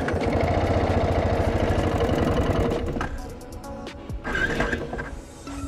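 A motorbike engine runs nearby with a steady, rapid pulsing putter, then drops away about halfway through, leaving quieter scattered clicks and handling noises.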